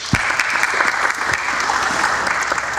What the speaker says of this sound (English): give them a round of applause for appreciating all that they're doing